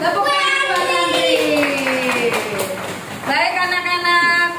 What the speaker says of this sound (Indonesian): Tepuk tangan buat Andri.